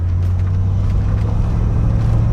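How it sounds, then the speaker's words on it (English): A 1967 Ford Mustang's engine idles with a deep, steady low rumble, loud and close, running unbroken with no voices over it. "But that engine note is incredible"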